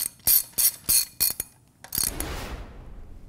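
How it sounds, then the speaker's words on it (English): Ratchet wrench tightening jacking screws on a Gorman-Rupp Super T10 pump, a series of sharp metallic clicking strokes in uneven rhythm, close by, followed by a duller scraping clatter. "you can then begin tightening the jacking screws"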